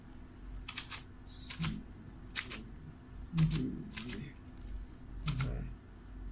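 Clicky keystrokes on a computer keyboard while entering text into an Excel spreadsheet, coming in short irregular bursts of taps over a steady low background hum, close and moderately loud.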